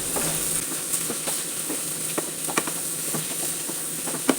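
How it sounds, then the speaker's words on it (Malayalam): A spoon stirs beetroot and date pickle seasoned with asafoetida in a pan over low heat, giving soft scraping clicks over a steady faint sizzle, with several sharper taps against the pan spread through the stretch. "ഇനി അതിൻ്റെ ഒരു പച്ചമണം പോണ വരെ ഒന്ന് നമുക്ക് നന്നായി ഇളക്കി കൊടുക്കാം"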